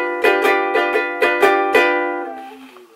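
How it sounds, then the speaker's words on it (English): Ukulele strummed with a standard guitar pick: seven bright, crisp strums in a steady rhythm, each with a sharp attack, then a ringing chord that fades out, close and clear with no voices. "Here is a standard guitar pick."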